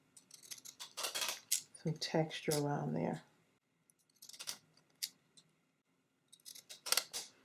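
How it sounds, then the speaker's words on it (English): Scalloped scissors snip through paper for a Halloween candy corn rosette in a series of crisp, close cuts, in short bursts between stretches of talk. "I'm going to just use my scalloped scissors and just create"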